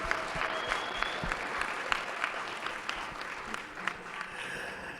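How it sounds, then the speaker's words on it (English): A seated assembly at a church diocesan convention's morning session gives a steady round of applause, dense and even for about five seconds at moderate level, with scattered sharper claps standing out. "Could we have another round of applause of Thanksgiving for Canon Sierra and Mother Kim?"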